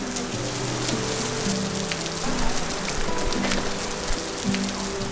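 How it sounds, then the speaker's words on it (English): Heavy rain pours steadily in Ljubljana, Slovenia, heard from a pharmacy doorway, a dense hiss of drops drumming on surfaces close by, constant and loud with no speech. "It's pouring down rain outside"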